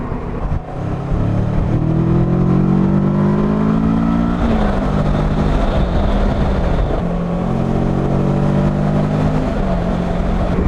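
A 2021 Kawasaki Versys 650 touring motorcycle rides hard through Exmoor, its engine note climbing through the gears and dropping on each shift, steady and loud over continuous wind rush.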